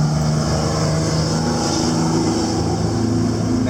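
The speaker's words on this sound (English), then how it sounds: "That noisy truck is as loud as it has ever gotten." A noisy truck on a side road near an Orlando campground cabin gives a loud, steady engine drone with a low rumble and humming tones that hold evenly throughout, with no talk over it.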